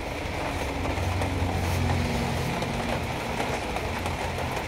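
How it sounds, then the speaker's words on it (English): Steady rain falls outside during a bike rebuild in a workshop, a continuous hissing patter that stays even and moderately loud, with a faint low hum underneath. "bloody raining out there again"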